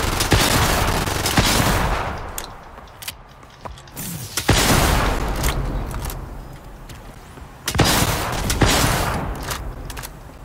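Bursts of rapid video game gunfire with rocket launcher blasts during a World Boss fight, loud and dense in three volleys separated by brief lulls.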